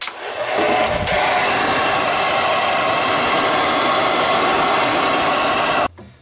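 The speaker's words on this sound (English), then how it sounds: "I'm just going to take a simple hair dryer and kind of go back here" A handheld hair dryer blows steadily behind a refrigerator to melt ice from a clogged drain line, a continuous close airy roar that runs unbroken for about six seconds before cutting off abruptly.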